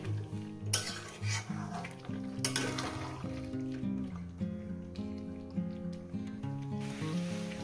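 Chicken curry with tomato being sautéed and stirred in a pot, clinks and scrapes of a spoon against metal over a low sizzle, with tonal music playing throughout.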